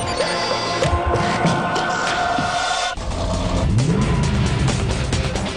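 Corvette test car driving on a test run, a steady engine drone with road and tire noise, loud and fairly close throughout, the engine note shifting partway through as the car changes gear.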